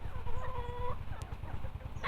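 Hens cluck softly nearby after being let out and fed corn in rural Ternopil region, Ukraine, a few drawn-out calls followed by quieter chatter, with a low rumble underneath.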